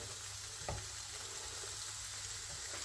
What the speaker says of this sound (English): Let's just fry them away